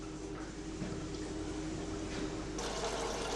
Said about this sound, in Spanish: El vapor resultante de la ebullición se ha convertido en líquido y sale por el extremo del serpentín